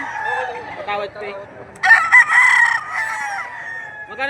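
Chickens at a market, hens and roosters, cluck and crow loudly and close by, with one rooster's crow rising in the middle over overlapping squawks.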